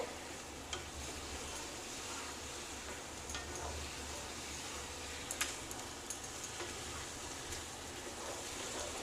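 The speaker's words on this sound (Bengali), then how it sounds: "এটাকে ভালো করে কষিয়ে নিতে হবে।" Ridge gourd and lentil dumplings sautéing in a pan, a steady broadband sizzle with occasional stirring clicks and scrapes, moderately loud and continuous without talk.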